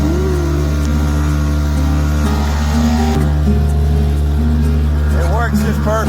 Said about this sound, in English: My kayak is moving by motor.